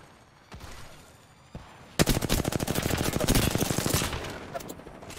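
Rapid automatic gunfire from a shooter game, a long loud burst of closely spaced shots after a couple of isolated single shots, with dense rattling reports dominating the scene.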